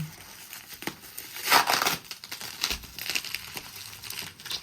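Plastic wrap crinkling and tearing as a package of physics exam prep books is opened, close and steady rustling with a louder crackle partway through.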